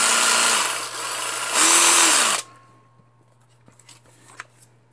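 A Worx Axis WX550L cordless saw runs with a loud, high whine that rises in pitch, then cuts off abruptly, leaving faint handling clicks.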